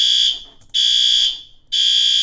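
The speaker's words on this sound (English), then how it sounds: "They are doing fire alarm tests today." A fire alarm under test blares in three long, loud, piercing electronic tones, each about half a second to a second, separated by short gaps, with no voices.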